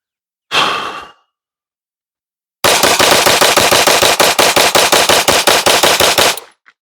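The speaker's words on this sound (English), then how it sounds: "let's see how easy she is to control at a rapid pace of fire, and see if that dot ever leaves the window" A Canik Mete MC9 Prime pistol is emptied in a fast mag dump. After a short breath and a pause, about twenty loud, close, sharp shots ring out in a quick, even rhythm and then stop abruptly.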